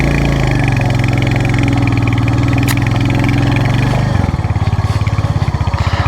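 Motorbike engine on a touring ride toward Kodaikanal, its steady mid-pitched drone holding close and loud, then shifting to a rougher, pulsing chug near the end, with no talk over it.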